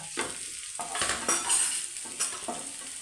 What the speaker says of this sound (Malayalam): നമുക്ക് അതിനകത്തോട്ട് ഇഞ്ചി ഇടാം എന്നിട്ട് നമുക്ക് ഇത് ഈ പച്ചമുളക് ഇടാം എന്നിട്ട് നമുക്കൊന്ന് ഇളക്കാം